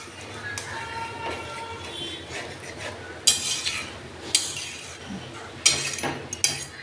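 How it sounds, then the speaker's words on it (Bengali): A spoon stirs milk shukto curry in a pot, with sporadic sharp metallic scrapes and clinks over a steady low background hum while someone talks. "এটা আমি ভালো করে নেড়ে চেড়ে নামিয়ে দেব"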